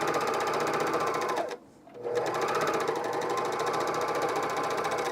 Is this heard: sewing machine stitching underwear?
yes